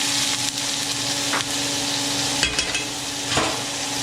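Minced garlic, about four cloves, sizzles steadily in a very hot pan while pollo saltado is being made, a loud, continuous frying hiss with a few brief stirring scrapes and no talking.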